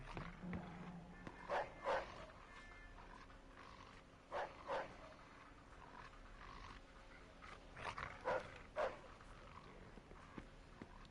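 Dogs bark in the video game Mafia 2, in loose pairs of sharp, mid-loud barks spread across the clip over a steady low ambient background, with no talk.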